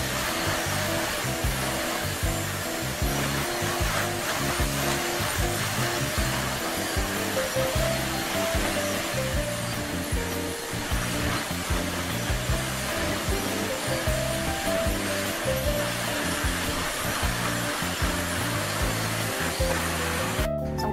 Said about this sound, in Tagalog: but first, mag-vacuum muna ako.